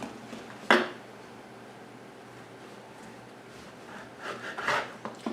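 A knife trims the hard crust off very crusty bread, making a sharp crunchy crack followed by quieter scraping, then a cluster of rasping cuts near the end, all close and moderately quiet.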